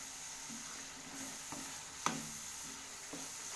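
Spices including Kashmiri red chilli and turmeric fry in a pan for paneer masala, a soft steady sizzle broken by a few light clinks and scrapes of a stirring spoon, quiet and close.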